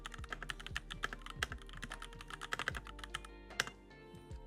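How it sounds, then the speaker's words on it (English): Brisk typing on a mechanical keyboard, rapid clacky keystrokes close up with a few louder key hits. "It's kind of like that thocky sound you typically get from the mechanical keyboards."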